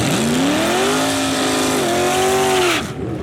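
A 1970 Plymouth Duster drag car with a 340 engine launching at a drag strip, a loud V8 roar climbing in pitch through a brief shift, close and intense, then cutting away near the end.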